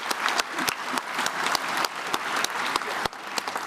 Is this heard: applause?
yes